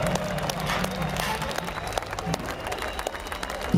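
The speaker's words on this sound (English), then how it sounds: "Give yourself a round of applause." Concert crowd at a show at Hellfest applauding and cheering, a broad wash of clapping and crowd noise, moderately distant and sustained.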